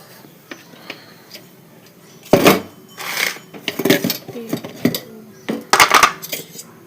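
A metal kadhai clanks and scrapes as it is set down on a gas stove, a few sharp knocks and rattles in bursts, close by, with soft clicks between.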